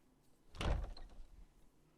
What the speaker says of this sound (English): When I opened the door,